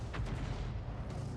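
A single heavy booming shot from an SU-8 self-propelled artillery gun in a tank video game, loud and dense with a rolling rumble.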